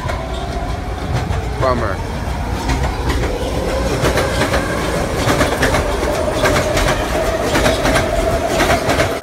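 A train rumbles past with rhythmic clickety-clack and a brief metallic squeal, loud and close, while a person mutters a single word.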